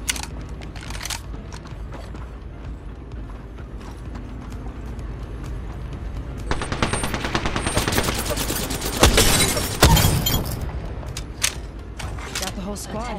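Gunfire in a battle royale shooter such as Apex Legends or Fortnite, steady rattling volleys that grow denser and louder with a couple of heavy impacts, mixed with footsteps and game announcer voices.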